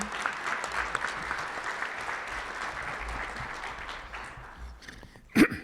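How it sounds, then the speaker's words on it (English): Steady audience applause for guests at a Rotary Club meeting, a dense crowd of clapping hands at moderate distance, continuing evenly for several seconds before one louder knock at the end. "Let's give a big round of applause to all the guests that are here today."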